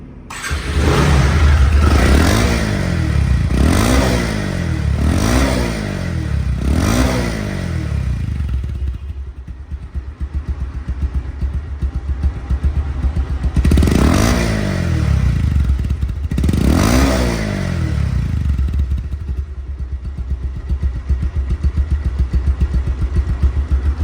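A 2024 Bajaj Pulsar single-disc motorcycle runs close by, its engine revved in a series of sharp rising bursts, then settling into a steady idle before two more revs.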